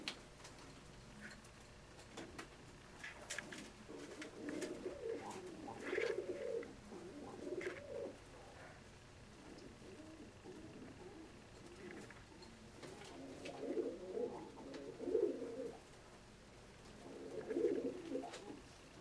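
A Yellow Short Beak Budapest pigeon hen coos in soft, low, rolling phrases that come and go over a faint ticking background, fairly close and without talk.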